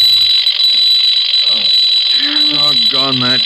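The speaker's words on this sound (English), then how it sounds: "Alarm clock suddenly goes off." An alarm clock goes off abruptly in a radio drama sound effect, a loud continuous high-pitched ringing that persists throughout, with a voice speaking over it partway through.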